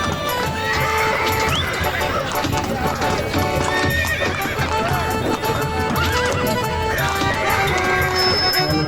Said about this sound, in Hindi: तांगा भाषण समारोह के पास पहुंचता है।